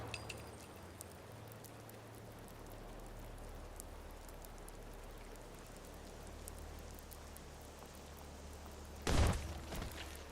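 Steady rain falls in the modded Skyrim game LoreRim, a soft continuous hiss throughout, faint and distant, with a brief louder crackling burst near the end; no one speaks.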